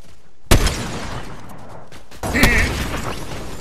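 Two loud, sharp sniper rifle shots in a video game, spaced about two seconds apart, each a sudden close crack followed by mechanical clatter and a ringing tail.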